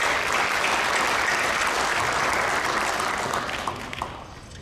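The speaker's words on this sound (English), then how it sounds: "Please give them a heartfelt round of applause." A graduation ceremony audience at Topeka High School applauds in a steady, dense wash of clapping that holds for several seconds before thinning and tapering off.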